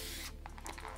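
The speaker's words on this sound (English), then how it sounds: "you just spray it once" Hair product sprayed once from a spray bottle during a sleek bun styling on natural hair: a single sharp hissing burst cuts off abruptly partway through, followed by faint handling sounds.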